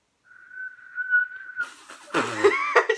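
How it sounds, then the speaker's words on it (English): Someone attempts a whistle, producing a thin steady tone for about a second and a half before it breaks into breathy sputtering and voiced squeaks, close to the mic. "She can't whistle."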